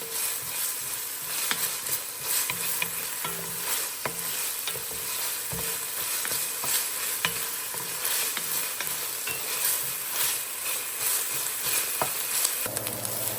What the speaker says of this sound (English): We're going to start cooking these onions up. When they're about halfway done, we're going to add the seasoning. They're starting to cook.